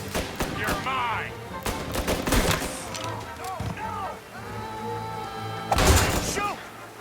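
Gunfire in a video game shootout in Mafia Definitive Edition: loud rapid bursts of shots and sharp cracks, with shouting voices over the battle.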